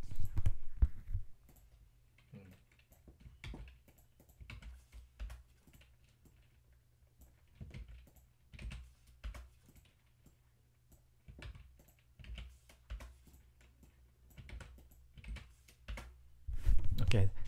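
Keys clack in quick irregular bursts on a computer keyboard during Korean vocabulary note-taking, close and moderately loud, with brief pauses between runs and louder thumps at the start and end.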